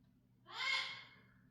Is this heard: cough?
no